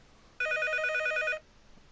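One loud, close burst of a ringing telephone bell, an electric trill of about a second that cuts off sharply into near silence.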